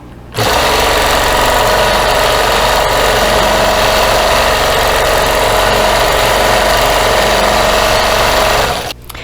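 A quilting sewing machine running in manual mode at 55% motor speed, stitching a quilt background, gives a steady, loud, even mechanical whir and hum. It runs continuously for about eight seconds, then stops.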